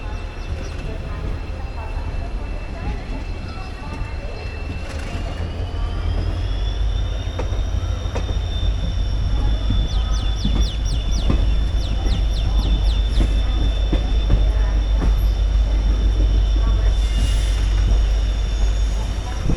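Passenger train on the Nilambur Road–Palakkad line in Kerala, a steady loud low rumble of wheels on rails running throughout, with rhythmic rattling clicks midway and faint background noise, no talking.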